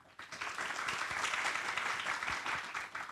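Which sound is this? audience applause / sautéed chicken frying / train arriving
audience applause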